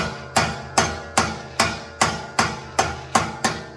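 A medium hammer strikes a heated horseshoe at a forge, nine sharp ringing metallic blows in a steady, even rhythm, each decaying quickly, close and loud with no talk.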